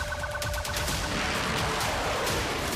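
A HISAR-O medium-altitude air defense missile system fires during a live test: a loud, continuous broadband roar and rushing blast that holds steady throughout, with no voices.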